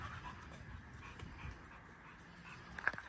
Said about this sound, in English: them dogs are goofy as fuck